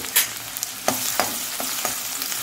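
Finely chopped medium onion frying with garlic already golden brown in a pan, a steady broadband sizzle with a few sharper spatula scrapes and stirs, close and moderately loud, no talking.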